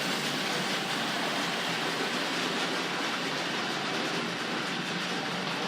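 A Tri-ang or Hornby Dublo model train rumbles steadily along the track, a continuous broadband clatter and hiss without pause.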